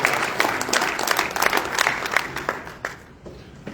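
Applause from a banquet audience at a sports association's annual awards dinner, a dense steady patter of many hands that holds for several seconds and thins slightly toward the end.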